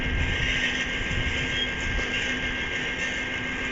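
A video-game train runs past in a steady loud mechanical rumble with a sustained hum, droning continuously without pause and with no speech.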